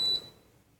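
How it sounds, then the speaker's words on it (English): A Cascade tower fan gives a single short, high-pitched electronic beep as it switches off, loud and close at the start, then fading into quiet room hiss. "This turns off. You hear a beep."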